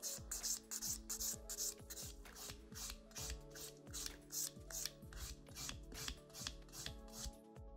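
A file strokes an acrylic nail in quick, regular back-and-forth passes, about two rasping scrapes per second, close up with no talking.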